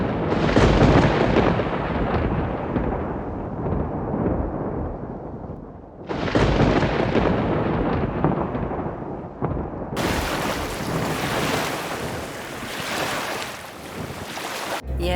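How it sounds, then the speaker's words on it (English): Storm rain and gusting wind batter a sailboat at anchor during a Mediterranean hurricane, a loud, continuous roar of rain and wind noise with surging bursts, no voices. "The rain is pelting down."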